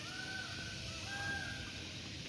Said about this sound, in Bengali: ময়ূর পাখির সাউন্ড।